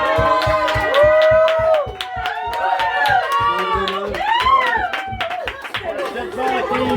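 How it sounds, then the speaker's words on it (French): Audience applause rises as hand claps within a chattering crowd, with voices talking loudly over and through the clapping throughout. "premier applaudissement."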